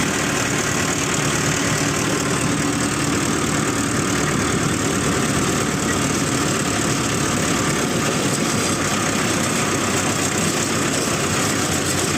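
A combine harvester engine idles steadily at close range, a continuous dense rumble with a broad mechanical hum that holds without change, no voices over it.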